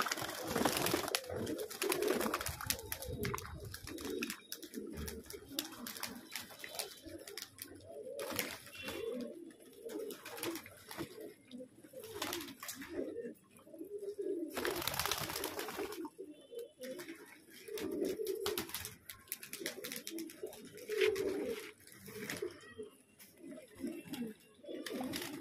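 Pigeons coo steadily in a loft for the whole stretch, a continuous low murmur of overlapping calls with occasional wing flaps and bursts of broadband noise.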